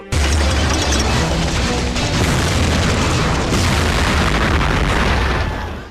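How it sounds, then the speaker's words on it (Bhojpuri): A dramatized bomb blast on a Mumbai commuter train erupts as a sustained, loud, roaring boom with crackling debris noise that fills the whole span and fades slightly at the end. "11 जुलाई 2006 मुंबई ट्रेन में बम विस्फोट।"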